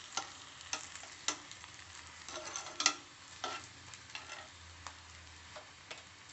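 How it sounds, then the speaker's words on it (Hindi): A breakfast dish fries in oil on a pan over a low to medium gas flame, with a soft, steady sizzle and scattered faint ticks and spatters, quiet and close, with nobody speaking. "अब गैस की फ्लेम लो टू मीडियम करते हुए हम इसे सेकेंगे अच्छे से"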